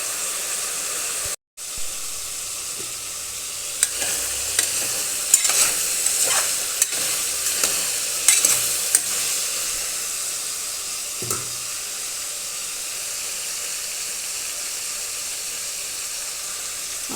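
Bitter gourd pieces frying in oil, a steady bright sizzle with scattered spatula taps and scrapes through the middle, close and uninterrupted by speech after a brief dropout at the start.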